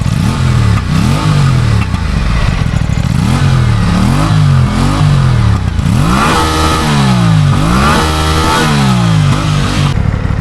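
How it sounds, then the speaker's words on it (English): An Aprilia Tuono 457 motorcycle's exhaust revs up and down repeatedly, loud and close, with rising and falling engine pitch over a steady idle. "Okay, Aprilia 20457 exhaust note. Wow, so it has this exhaust note. Wow, okay, sounds very nice and loud."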